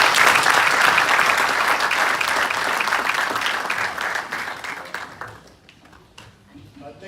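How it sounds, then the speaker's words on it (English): Audience applauding panelists at an investment conference in the UK, a steady dense round of clapping that fades out over the last couple of seconds, with no voices over it. "Can you give them a round of applause, please?"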